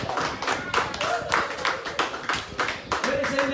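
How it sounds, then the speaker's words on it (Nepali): A church congregation at a Saturday worship service claps hands together, a dense stream of overlapping claps with voices and music-like tones running underneath throughout. "आउनुहोस् हामी फेरि अन्तिम एकचोटि प्रभुलाई धेरै धन्यवाद दिएर ताली बजाएर"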